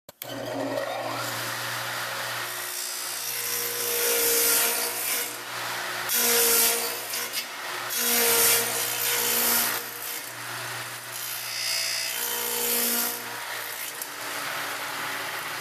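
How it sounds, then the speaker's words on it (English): A radial arm saw fitted with a 1/4 inch stacked dado blade cuts into wood, a loud sustained motor hum with rising rasping bursts as the blade passes through the board, repeated several times, and no voices. "In the radial arm saw, I am using a 1/4 inch stacked dado blade for this operation."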